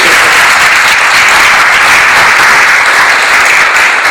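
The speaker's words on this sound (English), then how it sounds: "So can we give them a hand of applause?" An audience at a 2016 Baton Rouge flood resource meeting applauds. The clapping is loud, dense and sustained, filling the room evenly for several seconds without pause.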